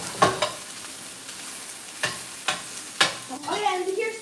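Onions being stirred and fried in a pan, with sharp spoon clacks and scrapes against the pan at irregular intervals over a soft sizzle, and a voice starting near the end.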